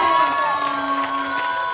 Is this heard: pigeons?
no